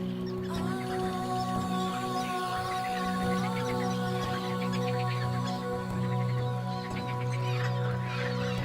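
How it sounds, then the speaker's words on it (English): Birds call in the Danube wetlands in spring, a dense chorus of clucking and chirping calls from many birds at mid distance, continuous throughout over a steady background. "The birds are back in their hundreds of thousands to raise a new generation in this watery jungle."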